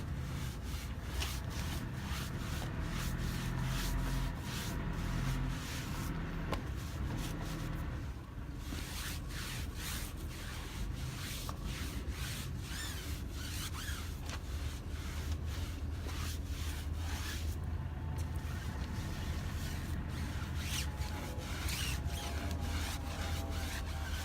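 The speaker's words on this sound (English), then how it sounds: "as I scrub it, it foams up" A tire being scrubbed with a brush and foaming cleaner gives a steady, close, rhythmic rubbing and swishing with quick repeated strokes, with no talking.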